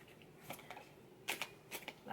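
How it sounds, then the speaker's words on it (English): A new, small deck of tarot cards is shuffled by hand, giving a run of short, crisp riffling rustles close to the listener with brief pauses between them. "Last shuffle, I guess."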